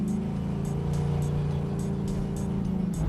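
A steady engine drone from an American car cruising and overtaking on a road in Malaysia, with a continuous low rumble heard from inside the car and faint periodic ticks over it.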